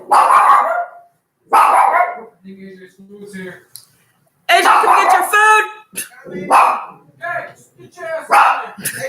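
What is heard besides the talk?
dog barking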